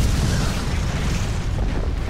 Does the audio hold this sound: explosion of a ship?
yes